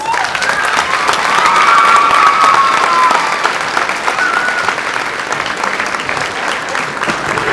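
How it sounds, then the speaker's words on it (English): Audience applause at the 2020 Potlatch Distinguished Young Women program, loud and sustained clapping from a crowd with a faint cheer and whistle, steady from start to finish. "Another big round of applause, please."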